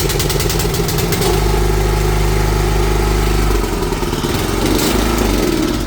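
A new 3-inch New Japan petrol water pump engine runs close by with a steady, loud, buzzing drone and a slight shift in pitch partway through.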